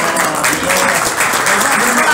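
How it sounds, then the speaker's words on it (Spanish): Audience clapping at a knife and militaria expo, a steady dense wash of applause with crowd murmur and voices mixed in throughout. "acá están aplaudiendo"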